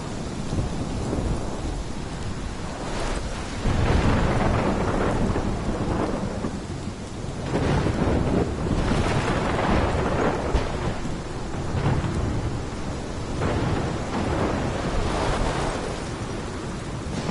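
A thunderstorm in the game Life is Strange: steady heavy rain pours while repeated rolls and cracks of thunder rumble loudly throughout, with no pause in the downpour.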